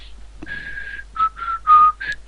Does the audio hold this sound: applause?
no